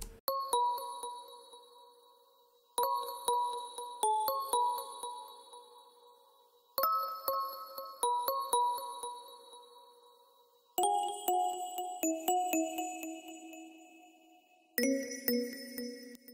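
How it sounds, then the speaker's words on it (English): Struck bell tones ring out in short melodic phrases, each note sustaining and decaying cleanly, with a few brief pauses between groups. "this next part is just a little counter melody played with a bell"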